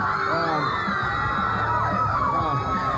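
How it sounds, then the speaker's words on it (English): Studio audience at a New York TV music show screaming, whooping and cheering in a loud continuous roar, with some voices mixed in. "They're having to quiet down the crowd for you guys at home so that he can hear my question"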